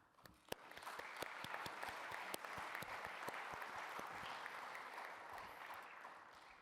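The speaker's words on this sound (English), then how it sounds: "Nous pouvons applaudir leur courage." Audience at a memorial event breaking into applause, a few sharp early claps swelling into sustained clapping from a sizeable crowd, fairly faint and distant.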